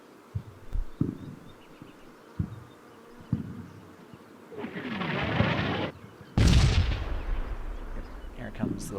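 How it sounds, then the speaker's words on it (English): Artillery fire in the World War II strategy game Combat Mission Fortress Italy, with several dull impacts followed by a long rumbling barrage of shell bursts. A final loud blast starts a heavy, sustained roar, with some talk mixed in. "Here comes the last few rounds from the artillery."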